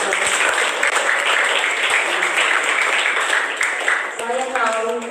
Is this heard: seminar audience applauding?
yes